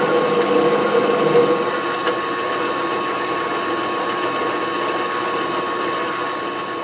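A homemade wood lathe cuts threads in a workshop, giving a steady mechanical whir and grinding hum with a brief ticking, ratcheting patter near the start, close and continuous.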